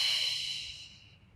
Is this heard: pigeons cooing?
no